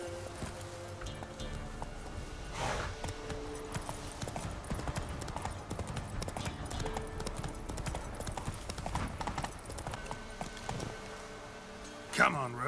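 Hooves of Roach, Geralt's horse in The Witcher 3: Wild Hunt, clip-clop steadily in a running rhythm through most of the stretch, with game music and occasional speech layered over them.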